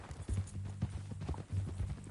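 Horse hooves clip-clop in Red Dead Redemption 2, a steady, low, muffled rhythm of repeated strikes at a walking pace, moderately close, with no voices over it.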